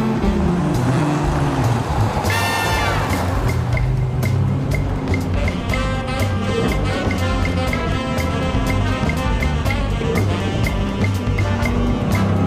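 A 2002 Ford Mustang Bullitt GT drives with a loud, continuous engine note, a brief rising rev early on, then a steady droning roar as the car moves.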